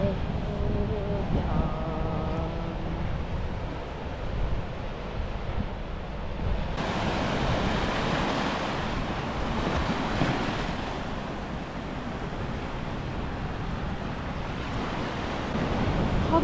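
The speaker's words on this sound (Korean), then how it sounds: "파도가" Ocean waves wash onto the East Sea shore of Korea in steady, rolling surf, with wind noise on the microphone; a surge of louder breaking water builds in the middle, and faint voices are heard briefly early on.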